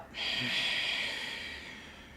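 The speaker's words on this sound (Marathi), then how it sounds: "मी एवढा श्वास घेतला मी श्वास सोडला" One deep yogic breath during alternate-nostril breathing practice, close and airy, swelling quickly and then tapering off gradually over about two seconds.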